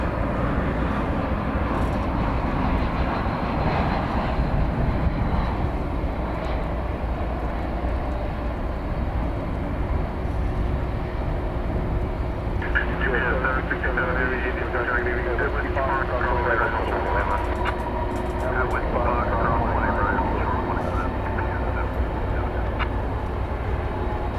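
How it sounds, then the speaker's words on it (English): A Spirit Airlines Airbus A320 inbound from New Orleans approaches runway 18 right at DFW Airport at night, a steady broad engine roar throughout, with a higher whining tone building in the second half. "Spirit Flight 216 is coming in from New Orleans. It'll be an Airbus A320."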